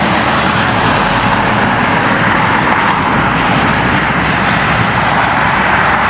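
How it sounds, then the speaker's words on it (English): Heavy traffic roars loudly and continuously, a dense rumble of big trucks rushing past on a highway close by. "So obviously it's probably a little loud with the trucks."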